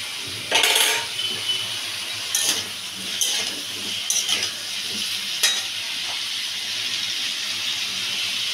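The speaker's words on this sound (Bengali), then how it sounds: "আলুটাকে প্রথমে ভেজে নেব" Potatoes frying in white oil in a wok, a steady close hiss broken by several short bursts of stirring and scraping, with no talking.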